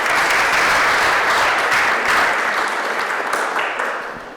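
Audience applause at the Bloody Scotland launch speeches: sustained, dense clapping from a crowd, loud and steady, then gradually thinning toward the end, with no talk over it.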